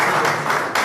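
Steady applause from an audience at a teachers' in-house training session, a dense even wash of clapping with a slight dip midway.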